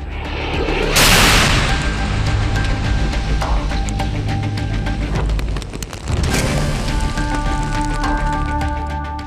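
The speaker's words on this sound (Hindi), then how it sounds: "इसमें देखा जा सकता है कि रूसी हमलों में अमेरिका का हिमार्स मल्टीपल रॉकेट लॉन्चर जलकर राख हो जाता है" A Russian Iskander-M ballistic missile strike on a HIMARS multiple rocket launcher near Kharkov: one loud blast near the start, then a sustained crackling rumble with a steady tonal drone underneath.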